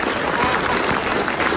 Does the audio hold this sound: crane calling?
no